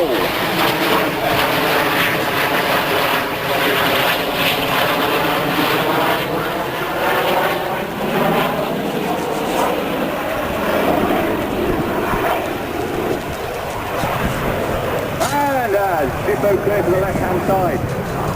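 Red Arrows jets flying a close display formation at an air show, a loud continuous roar of jet engines rising and falling across the whole stretch, with a public-address commentator talking over it throughout.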